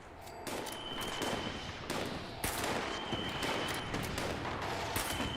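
Gunfire from Fallout 76 cracks in repeated bursts, sounding distant and echoing, with a few single shots followed by clusters of rapid fire. No one speaks.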